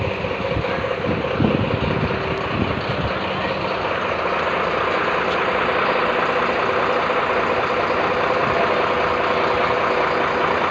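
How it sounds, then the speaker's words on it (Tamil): Vehicle engine running with a steady broadband rumble throughout, approaching, with a heavier low-end burst early on and voices faintly present. "வண்டி முன்னாடி வருது"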